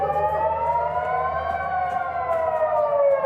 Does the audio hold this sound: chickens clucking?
no